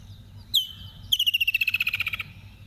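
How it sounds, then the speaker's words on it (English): A black-backed puffback calls in hot-season bush, giving one sharp whistled note and then a fast run of about fifteen even, clicking chirps that fade out, loud and near over a low rumbling background. "So our blackback, puffback calling there as well, claiming."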